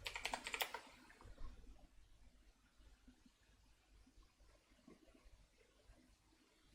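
Rapid clicking of keys on a computer keyboard, a quick burst of close, fairly loud typing at the start that fades into faint room noise.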